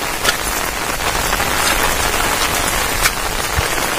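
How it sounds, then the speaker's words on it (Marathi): Heavy first monsoon rain in Rajapur, Konkan, pours steadily onto surfaces, with a dense close hiss and scattered louder drops, and no voices. "दुपारपासून आपल्याकडे खूप पाऊस पडलाय"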